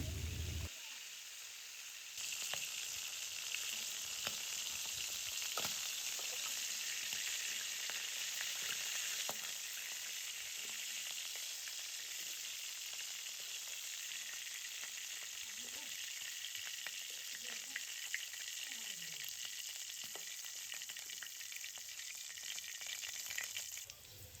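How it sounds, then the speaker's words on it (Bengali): Chicken roast made with desi (country) chicken frying in oil in a covered pan, giving a steady, loud sizzle with crackling that runs unbroken throughout, no voices over it. "ঢাকনা দিয়ে এপাশ ওপাশ করে একটু হালকা করে আমি ভেজে নিয়ে নিলাম"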